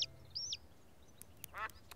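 Cartoon ducks quack in a few short, bright calls, with one clear quack near the start and a cluster of quacks toward the end, spaced out over quiet background.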